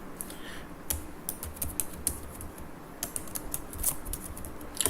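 Close keyboard typing while coding on a computer, a quick irregular clatter of individual key taps in short bursts with small pauses, fairly quiet and with no voices.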